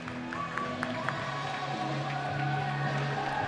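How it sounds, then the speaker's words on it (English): Ice hockey fans applaud and cheer a power play goal for the Hull Pirates against the Phantoms, a steady mass of crowd noise filling an arena with faint tonal hum running underneath. "it's applause from the hardy band of Pirates fans"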